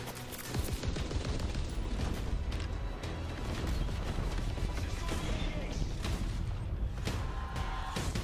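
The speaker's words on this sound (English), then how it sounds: "There's too many explosions happening." Rapid bursts of explosions and gunfire from a video game trailer crash over each other in a loud, nonstop barrage, with a voice faintly mixed underneath.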